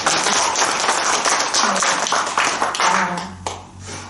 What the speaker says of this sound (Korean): 세 분께 수위 찬탄하는 박수 한번 쳐드릴게요